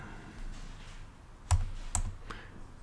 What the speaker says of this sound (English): I hold down Command, I hit Z